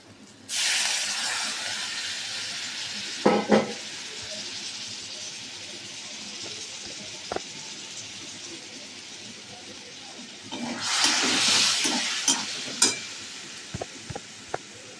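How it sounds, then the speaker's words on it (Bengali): Water poured into a pan of frying spice masala for a soybean curry bursts into loud hissing sizzle and steam, easing to a low crackle, then flaring again with a second surge near the end. "সামান্য পরিমাণে জল দিয়ে দিলাম"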